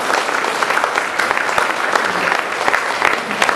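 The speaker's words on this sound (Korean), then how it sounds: "뜨거운 박수로 환영하십니다." A church congregation bursts into warm, loud applause welcoming a newcomer, a dense continuous clapping from many people with a few distinct sharper claps, filling the whole moment.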